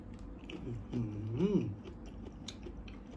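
Someone chews pickled glass shrimp and blue crab in herb-seasoned fish sauce, with close, moist crunching and biting and a brief voiced hum of enjoyment in the middle.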